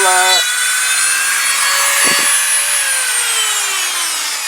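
A Dremel barrel sander removes powder coating from a Kawasaki GPZ500S motorcycle part, a high-pitched whine that briefly stalls, then sustains loud and close with a slowly falling tone as it grinds.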